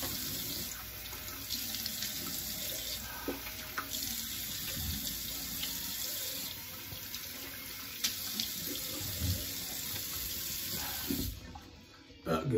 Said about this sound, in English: let me rinse the face